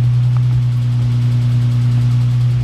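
A Nissan 350Z engine running at a steady idle, a loud, constant low hum with a strong droning tone that holds evenly throughout with no talking.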